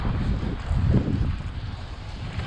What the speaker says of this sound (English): I can't hear you through the wind